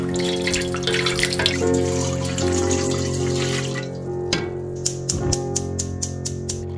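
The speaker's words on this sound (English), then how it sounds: "We'll just use this to fill up water so we can slish it around" A tap runs water into a container during natural dye extraction, a steady pouring stream that stops partway through, followed by a few clinks and a run of rhythmic sharp knocks or drips.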